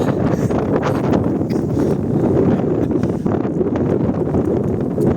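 Strong wind buffets the microphone, a constant loud rumbling roar with gusty fluctuations throughout.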